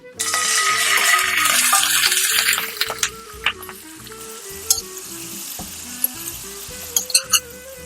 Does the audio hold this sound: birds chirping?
no